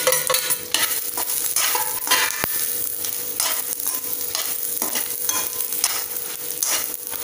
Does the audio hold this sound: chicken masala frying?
yes